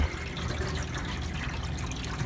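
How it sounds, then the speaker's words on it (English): An Ice-O-Matic ice machine's water pump runs in wash mode, a steady close whir with trickling, splashing water flow throughout. "water pump's pumping, okay. Got a decent flow"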